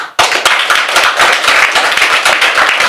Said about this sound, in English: let's honor and welcome our panelists and give them a round of applause